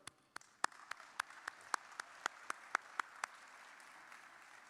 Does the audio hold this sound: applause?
yes